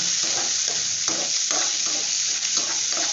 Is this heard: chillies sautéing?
yes